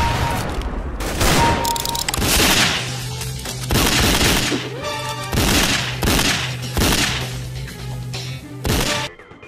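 Repeated heavy AWP sniper rifle shots from a video game, each a loud booming crack in quick succession, with continuous background game sounds between them and no talking.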